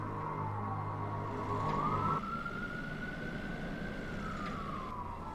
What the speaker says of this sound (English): the police there forward, me see flashing light them, yo, when I hear the siren